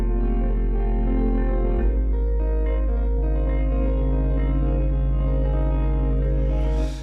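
An electric guitar run through granular and FM synthesis with added reverb holds a dense, bright sustained drone over a heavy low bass tone, shifting its texture partway through and fading with a brief noisy swell at the end.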